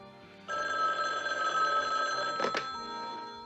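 A telephone bell rings loudly and steadily with a bright metallic trill, starting after a brief quiet lead-in and continuing for about three seconds, with a short knock partway through.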